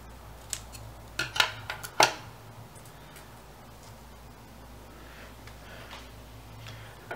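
Scissors snipping paper while trimming excess from a 3D papercraft Koopa Troopa head, a quick cluster of close, crisp cuts early on, then quiet.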